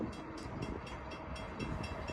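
CSX westbound freight train rolling past a crossing on Lake Avenue in Blasdell, NY, a loud, close rumble with regular clickety-clack wheel beats from the cars passing.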